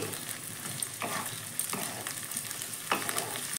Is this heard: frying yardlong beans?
yes